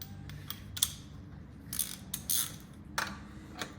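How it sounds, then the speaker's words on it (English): Dry cylinder liner being wound back into an engine block using the end of a shaft as an installer, giving irregular metallic clicks and ratcheting scrapes at close range, with no talking. "And you wind the cylinder liner back in."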